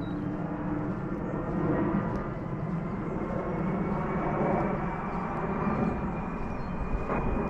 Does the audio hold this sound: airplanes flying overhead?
yes